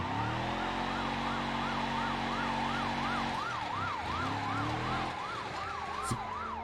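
A police car siren wails in the BeamNG.drive driving game, with a loud, fast, steady up-and-down yelp pattern over a vehicle engine drone, close and continuous.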